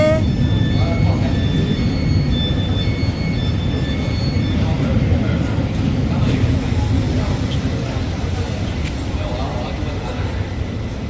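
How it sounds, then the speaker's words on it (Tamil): The Goldenpass Express train rolls in with a loud, sustained rumble and a rushing roar, a few high metallic squeals above it, while a person talks nearby. "எங்களோட ரெயின் வந்துட்டுது"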